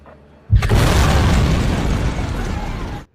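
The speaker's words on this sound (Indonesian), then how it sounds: "Setelah terjadi 2 ledakan" A loud explosion bursts out suddenly, followed by a sustained roaring rumble that slowly fades over a few seconds.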